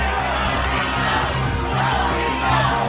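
Boxing arena crowd reacting during a bout, a dense roar of many voices with shouts and cheers rising and falling, loud and continuous.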